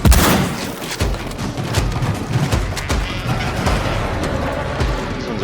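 Dense, continuous gunfire and booms in the sci-fi shooter game Second Extinction, with rapid overlapping shots and thuds at steady high loudness throughout.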